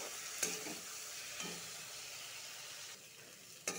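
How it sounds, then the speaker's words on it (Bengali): Spice paste fries in a pan for a thin sea-fish curry with taro, potato and tomato, a soft, fairly quiet sizzle with a few light stirring knocks. "ভালো করে মশলাটা ভেজে নিব।"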